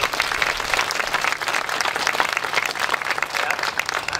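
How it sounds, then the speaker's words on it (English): Audience at a branch library reopening event applauds steadily for several seconds, a dense, even wash of clapping with no voices over it. "let's give another round of applause."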